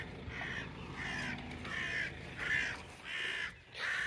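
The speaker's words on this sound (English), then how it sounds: "Yeah, the crows are on her." Outdoors on a farm, crows caw over a dead ewe. Harsh calls come in a steady series of about six, at moderate distance and fairly faint, with no talk.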